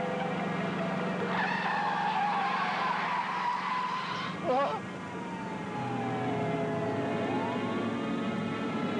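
A car tears through dense traffic at over 140 km/h, a sustained roaring engine with tire squeal and a siren-like wail sweeping across, loud and continuous with a brief dip midway.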